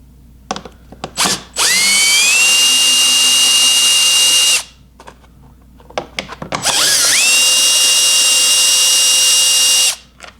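Power drill backing Torx screws out of the hood of a 2018 Ski-Doo Rev Gen4 snowmobile: two loud, close, sustained high-pitched whining bursts of about three seconds each, separated by short clicks and rattles.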